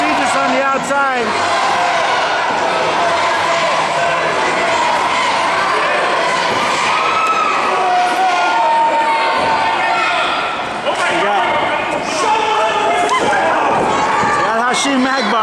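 An indoor crowd at a live wrestling match between Mad Dog Ken Johnson and Ha-Shem Akbar shouts and cheers steadily throughout, a dense roar with occasional thuds, under constant excited commentary from a male announcer.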